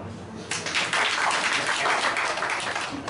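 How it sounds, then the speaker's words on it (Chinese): Audience applause welcoming a band performer at Forro Cafe in Taichung, a dense burst of clapping starting abruptly after a half-second of murmur and holding steady and loud to the end. "我们掌声欢迎老外"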